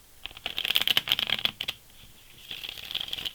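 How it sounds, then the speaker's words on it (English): Tarot cards are shuffled by hand in rapid bursts of papery riffling and flicking, first a dense flurry, then a short pause, then another softer run of shuffling, close and quiet. "I feel one more shuffle"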